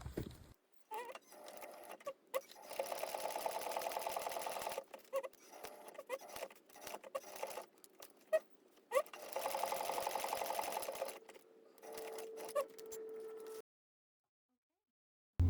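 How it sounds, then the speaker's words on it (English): Sewing machine top stitching a strap connector on a laptop bag, several bursts of rapid steady stitching separated by short pauses, close and clear with no talk. "I'm going to take this to the machine and I'm going to top stitch from this point down and around"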